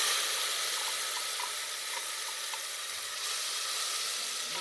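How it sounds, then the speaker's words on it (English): Masala paste sizzles loudly in a pan of browned onions, a close, steady hiss of frying with a few faint stirring knocks and no voices. "So what you do is just put all the masala in there."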